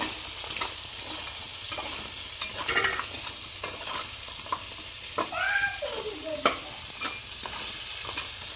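Shrimp fry in hot oil in a pan with a constant sizzle, broken by repeated scraping and tapping of a spatula as they are stirred.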